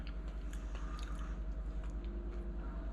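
Someone chews a green bean casserole topped with crunchy cornflakes, giving soft, steady crunching and squishy biting noises very close to the mic, with no talking.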